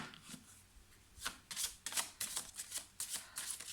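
Oracle cards being shuffled by hand: a run of crisp, riffling bursts, close and fairly soft, coming in quick repeated strokes after a quieter start.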